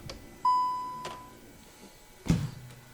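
Car ignition switched on from the steering column, answered by a clear electronic beep with a ringing tone, followed later by a dull knock; otherwise quiet.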